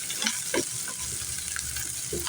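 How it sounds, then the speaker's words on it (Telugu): Chopped onion and green chillies frying in a pan, a continuous close sizzle with intermittent scraping and stirring knocks, no voices. "చక్కగా ఈ ఉల్లిపాయ పచ్చిమిరపకాయని ఇలా ఫ్రై చేసుకోవాలి"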